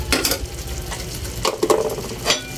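Sautéed eggplant with tuna is stirred in a pan. Close, steady sizzling runs throughout, broken by a few scraping strokes of a utensil. No one speaks.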